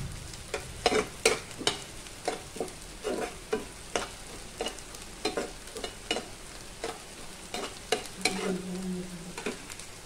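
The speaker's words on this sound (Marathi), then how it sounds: "कांदा चांगला गुलाबी रंग होईस तर आपण परतून घेतलेला आहे।" Onion and green chilies sauté in a pan, browned to a pinkish colour, under a steady sizzle broken by frequent sharp clicks and scrapes of a spatula stirring in an uneven rhythm.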